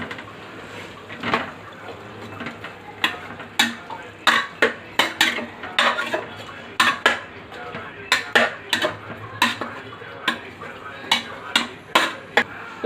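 A metal spoon stirs carrots, potatoes, beans and biryani masala in a cooking pot, making repeated sharp scraping clinks in an uneven rhythm over a low background hum, with no voice.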